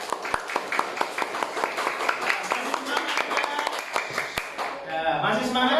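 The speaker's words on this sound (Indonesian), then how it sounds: "Ya, tepuk tangan buat kelompok 1." Students in a classroom clap for a group, a sharp irregular patter of hands with several distinct louder claps, thinning out and giving way to voices and room noise near the end.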